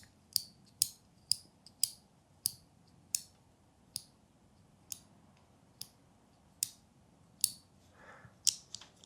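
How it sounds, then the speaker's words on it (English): Sharp clicks from a fidget toy keychain, about a dozen crisp snaps spaced roughly every half second to second, close and isolated against a quiet background hiss. "how annoying it is for those around you that hate the sound of clicking"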